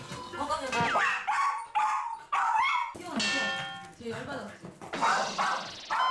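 A dog barks repeatedly at the front door of a home when a visitor arrives, sharp yips and barks mixed with clanging and people talking over them.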